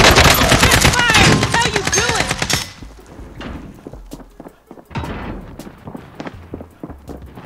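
Loud rapid automatic gunfire in Call of Duty: Warzone dominates the opening seconds, then gives way to scattered thumps and isolated shots at lower level.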